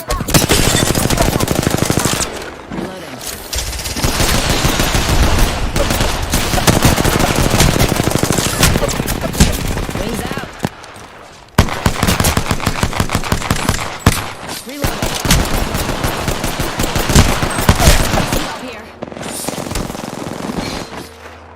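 Sustained bursts of automatic machine gun fire in a video game ring out loud and close, nearly continuous with only short breaks.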